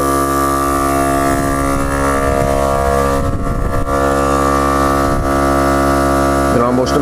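A VIAIR 88P portable air compressor runs steadily while pumping air into a tire, giving a loud, close, continuous motor drone with a buzzing hum. A few faint voices and clatters sit briefly beneath it.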